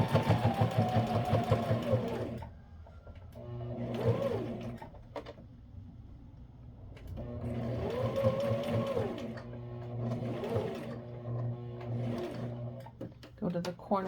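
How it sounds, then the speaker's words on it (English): A sewing machine stitches along the edge of a wool diaper cover in several runs of rapid, close mechanical whirring, stopping and restarting while a person talks over it. "along the tab I'm just sewing again right along the edge"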